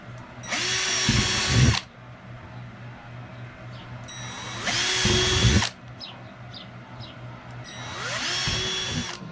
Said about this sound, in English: I'm going to drill these holes out real quick